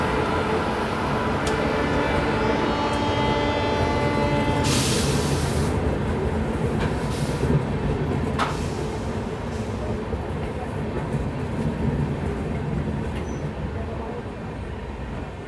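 A WAP7 electric locomotive from the Vijayawada shed hauls a train in on the Bidar line at Latur Road Junction, a steady rolling rumble and clatter carrying on throughout, with brief sharper hissing bursts midway and voices heard over it.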